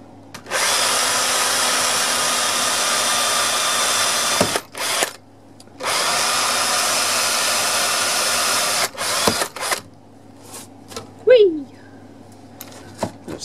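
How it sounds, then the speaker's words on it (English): A power drill whirs loudly in two long bursts of about four seconds each, drilling knob holes in a custom ten-string guitar body, followed by brief clicks and handling noises. "I'm now drilling the holes for them."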